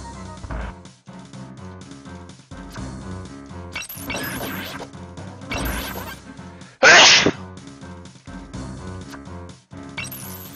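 A single hard sneeze sound effect bursts out sharply over looping retro game music while playing a Zelda Classic randomizer, with other short game blips around it.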